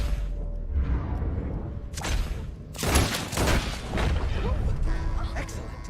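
Gunshots in the video game Red Dead Redemption 2, a few sharp booming shots with crashes and whooshes under loud game dialogue and background noise.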